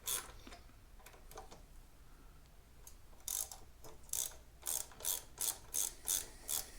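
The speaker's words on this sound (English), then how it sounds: "We have a flathead screwdriver and a 3/8 ratchet, 14mm. So we're going to go ahead and loosen these bolts up." A 3/8-inch ratchet loosens 14mm brake bolts on a Honda CBR650R, giving several quiet clicking bursts early on and then a steady run of about eight evenly spaced ratcheting strokes, close and alone.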